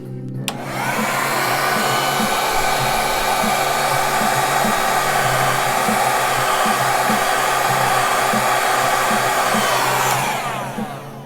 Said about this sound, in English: I speed it up with a hairdryer.